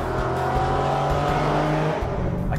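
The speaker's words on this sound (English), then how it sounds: "the exhaust note on the G37 sounds better than the 370Z" A Nissan 370Z or Infiniti G37 engine drones steadily with a deep, throaty exhaust tone, holding a sustained pitch before easing off near the end.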